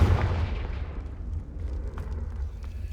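A Confringo blasting spell in Hogwarts Legacy goes off as a loud, booming explosive burst right at the start, then leaves a rumbling roar that slowly decays, with no talking.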